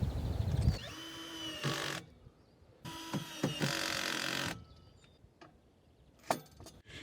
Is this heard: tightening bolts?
yes